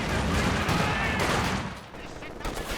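An MG34 machine gun fires in a Company of Heroes 2 match, dense bursts of gunfire over battlefield noise and a faint voice, easing off near the end.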